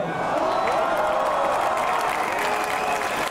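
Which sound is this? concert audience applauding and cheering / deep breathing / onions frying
concert audience applauding and cheering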